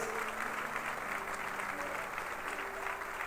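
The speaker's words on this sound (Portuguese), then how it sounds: "Se você crê, aplauda ao Senhor" Church congregation clapping in praise, a dense, even roar of applause from a large crowd that holds steady for the whole stretch, with faint voices mixed underneath.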